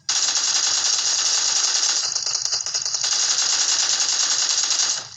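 Rapid automatic gunfire from a shooting video game blasts in a dense, continuous stream of sharp shots, loud and close, with no talk over it.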